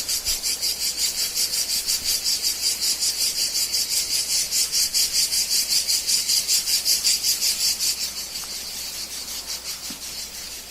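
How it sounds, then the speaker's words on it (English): A lone cicada sings at a Simon's-house setting on an Italy trip, a steady pulsing buzz throbbing rapidly and evenly, close and loud, continuing alone for the whole stretch and easing slightly toward the end. "This is one lone cicada, just one."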